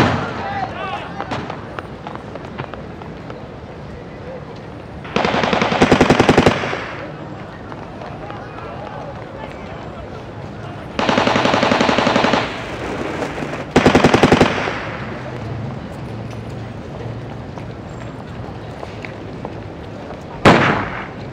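Street fighting gunfire from the 1944 liberation of Paris, with loud bursts of rapid shots at intervals over a steady background, as on an old newsreel soundtrack.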